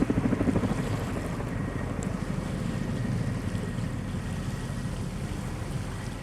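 A sailboat moving over open water toward Princess Louisa Inlet, with a steady wash of waves against the hull and wind rumbling on the microphone, continuous and fairly loud, with no talking.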